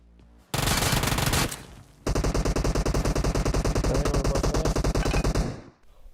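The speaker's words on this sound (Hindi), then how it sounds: "गोलियों की आवाज सुन के यार अब न रुका जा रहा मेरे से" Rapid automatic gunfire in PUBG Mobile, a short loud burst followed by a long sustained volley of evenly spaced shots, close and alone.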